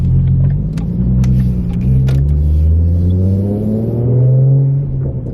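A 2014 Ford Mustang with a manual V6, MPT tune and Roush exhaust revs loudly and close up, its deep engine note rising and falling in a steady drone with no talk.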